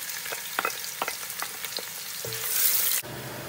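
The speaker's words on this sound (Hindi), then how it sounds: "अब इसमें मैं प्याज डालती हूँ।" Onions hiss and crackle in about one and a half cups of hot oil over high heat in a pot, with a few quick stirring clacks and then a swelling sizzle that cuts off abruptly.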